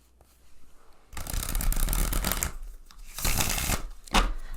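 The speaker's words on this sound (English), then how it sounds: "Okay, so I gotta give her a shuffle." Tarot cards being shuffled in three rough, papery bursts, close and fairly loud, separated by short quiet gaps.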